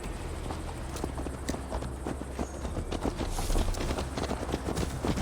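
Horse hooves clip-clop steadily at a riding pace in Assassin's Creed Valhalla, a dense rhythmic patter of hoofbeats over a constant background bed, close and fairly loud.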